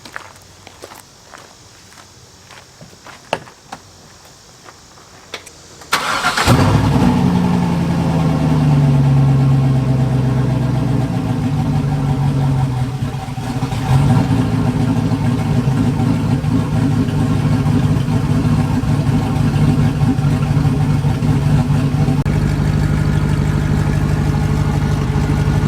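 A drift car engine is cranked into life after an oil fill, catching abruptly and then settling into a loud, steady, close idle that runs on unbroken, with a small dip partway through.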